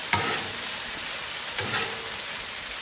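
Eggs, bacon and vegetables sizzle steadily on a Blackstone griddle while a spatula scrapes and stirs them, with a couple of sharper scrapes standing out over the constant frying hiss.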